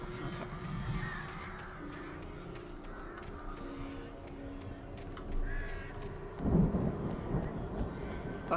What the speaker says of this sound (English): Fucking birds.